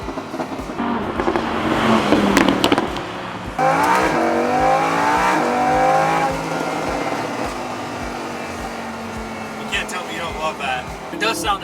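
A McLaren 570S or Lamborghini Huracan sports car engine revving loudly, rising and falling, with sharp crackling pops from the exhaust before it settles to a lower idle.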